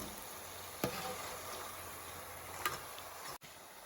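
Ribbon pakoda deep-frying in hot oil gives a steady, faint bubbling sizzle throughout, with a couple of soft clicks and a brief dropout near the end.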